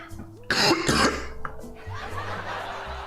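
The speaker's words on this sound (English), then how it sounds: "my cough just intensifies" A person coughs loudly a couple of times up close, followed by quieter throat noises and low murmuring.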